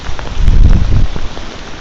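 Steady rain patters down during an outdoor test of a US military poncho, a dense continuous wash that holds fairly even and loud throughout, with heavier low rumbling in the first second.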